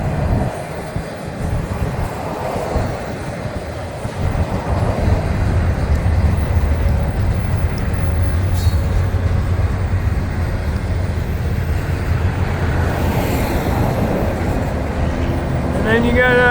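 An FEC freight train hauling containers rolls past, a loud sustained rumble and clatter of wagons that builds after the first few seconds and carries on to the end.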